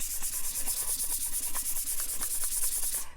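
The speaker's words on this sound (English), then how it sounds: "So you're going to want to sand your tumbler, and I hate this sound." Rapid rhythmic scratching of sandpaper rubbed back and forth over a tumbler's hard surface, prepping it for glitter, close and continuous, with no talking.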